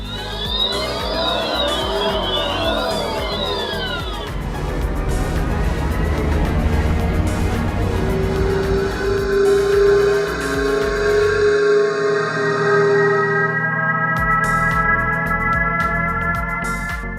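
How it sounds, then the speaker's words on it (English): A string of synthetic whirring and humming tones, some sweeping up and down in pitch, then steady electronic drones, one warning sound after another. "Are you familiar with the acoustic alert for pedestrians?"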